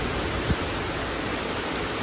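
Rain falls steadily as an even, continuous hiss with no voices over it.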